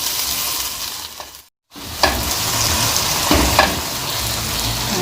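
Chicken korma fries with onion, poppy seeds, almonds and yogurt in a loud, steady sizzle, broken by a brief silent gap and a few sharp stirring scrapes against the pan.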